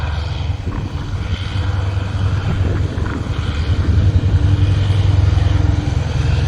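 A heavy diesel locomotive, GE unit 4556 hauling train 284 to Bangkok, drones with a deep steady rumble, growing gradually louder as it approaches from a distance.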